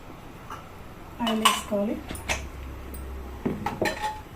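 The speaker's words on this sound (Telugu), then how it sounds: "ఫస్ట్ బాండి పెట్టుకోవాలి. దాంట్లో 2 స్పూన్లు ఆయిల్ వేసుకోవాలి." In a home kitchen, a metal pan is set down on the stove and a spoon clinks against it as oil is added, a few sharp metallic knocks and scrapes spaced out against quiet background.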